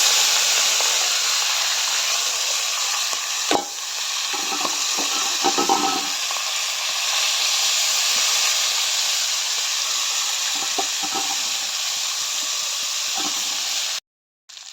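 Small marinated fish sizzling in hot oil, producing a loud, steady hiss with a few scattered knocks and spatters before it cuts off abruptly near the end.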